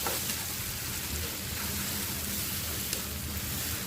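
Dried anchovies frying in spicy chili paste in a pan, a dense, steady sizzle and crackle of hot oil that runs continuously and close, with no voices.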